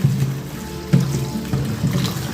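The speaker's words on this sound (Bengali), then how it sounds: "আগে মাছটা ভিজাই পাবদা মাছ নিলাম রান্না করবো" Water splashes and trickles steadily as pabda fish soak in a sink or bowl, with a few soft knocks from handling close by. No talking is heard.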